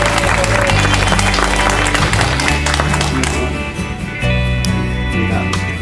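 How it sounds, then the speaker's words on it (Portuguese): Audience at a ufology academy lecture applauding a speaker, a dense, loud burst of clapping that holds steady for several seconds, with some voices and other sounds mixed underneath. "Salva de palmas."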